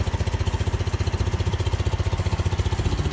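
A Ford car fitted with a repaired Select-O-Speed shifter runs with a loud muffler, its engine throbbing in fast, even pulses close by and steady throughout.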